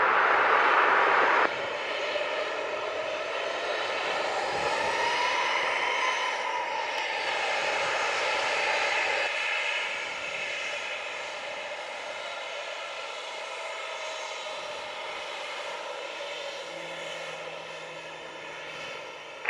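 A jet airliner at Montego Bay airport in Jamaica roars with a steady, whining engine drone that swells and slowly fades over about twenty seconds as it takes off, heard from a distance with no talking.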